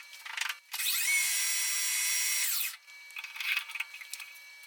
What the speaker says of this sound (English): Now we'll get that center drilled.